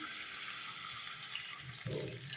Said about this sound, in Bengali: এবার আমি একটু জল দিয়ে দিলাম